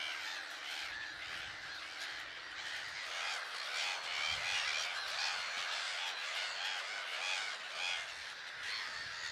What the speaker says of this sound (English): Thousands of gulls and cormorants breed here safely without disturbance from big predators.